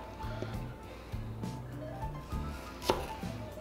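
Green tomatoes are sliced with a knife, giving a close series of firm, evenly paced chops against a cutting board, about a half-dozen crisp strikes with a sharper one near the end.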